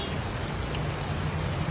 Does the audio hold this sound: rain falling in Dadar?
yes